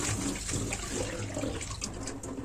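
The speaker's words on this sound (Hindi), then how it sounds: "एक बार जाली में भी इसको धो देती हूँ" Peanuts being rinsed in a mesh strainer under running water for a quick chutney, a continuous close splashing and gurgling stream with small rattles, fairly loud and without talk.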